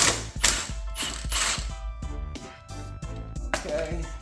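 Close, loud bursts of an impact wrench on the sprocket nuts of a Ducati 899 Panigale, several rapid rattling hammer runs separated by short pauses.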